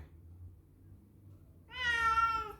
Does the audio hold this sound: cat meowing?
yes